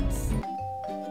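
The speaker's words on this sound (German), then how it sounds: "Moment mal, es hat geklingelt?" A doorbell rings with two bright chime tones in quick succession, clear and close in a quiet home.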